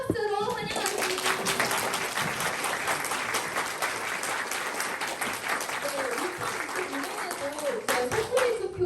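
An audience applauds at a speaking event as speakers are introduced: loud, sustained clapping from a crowd throughout, with voices talking over it.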